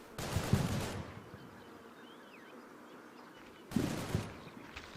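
Rapid gunfire from the Combat Mission: Battle for Normandy game comes in two short crackling bursts separated by a few seconds of near quiet, at a fairly faint level.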